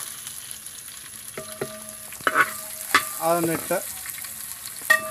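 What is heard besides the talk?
chopped beans and carrots being stir-fried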